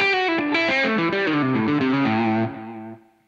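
A distorted electric guitar plays a short run of notes through a long delay effect, then stops, leaving the echoing repeats to trail off and fade over the final second.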